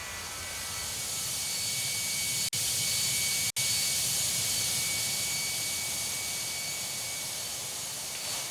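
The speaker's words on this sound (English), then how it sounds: "Delta plane on approach." Delta airliner on approach to land at a Caribbean beach airport in Tower! Simulator 3, a loud, steady jet engine roar that holds throughout with two abrupt brief dropouts.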